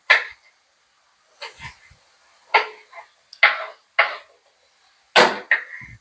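Tomatoes chopped by hand with a knife for Tamil fish curry (meen kulambu), a series of separate close, sharp cutting thuds with gaps between them and no voice.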